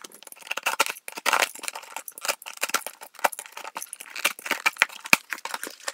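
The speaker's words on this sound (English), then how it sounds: "Let me get my trusty little knife and I will open this box right now." A small knife slices open a cardboard box: close, scratchy bursts of cutting and tearing come in quick irregular strokes with short pauses between them, and no one speaks.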